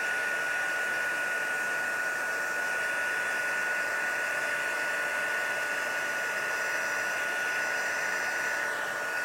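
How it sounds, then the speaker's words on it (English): Steady, loud blowing roar of a heat gun used for heat embossing, a continuous airy whoosh with a constant whine running unbroken throughout, with no talking. "Always fascinates me, heat embossing."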